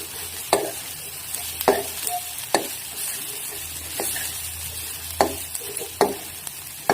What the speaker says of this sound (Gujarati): સારી રીતે આપણે એને મિક્સ કરી દઈએ.